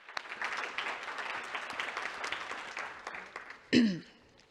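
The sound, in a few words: applause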